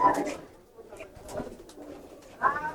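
Pigeons coo in short, soft bursts inside a Bangladeshi pigeon shop, a few murmuring calls spread across a quiet moment with faint background noise.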